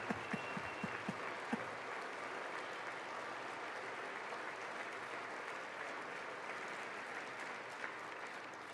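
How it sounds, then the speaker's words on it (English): Applause fills the chamber during a State of the Union address, a few distinct claps at first that swell into sustained, even clapping from a large crowd. "I wasn't sure if anybody, even on this side, was going to applaud for that."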